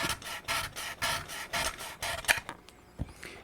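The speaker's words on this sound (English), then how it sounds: "Grind it back and forth, back and forth, back and forth, until it feels halfway smooth" A metal hand file rasps back and forth on the plastic feed lip of a 30-round ProMag SKS magazine, about seven even, close strokes in a steady rhythm before stopping.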